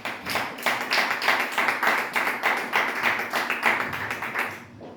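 A church congregation at a Sunday service in Montréal claps in a fast, even rhythm to acclaim the Lord, loud and close, with a steady beat throughout.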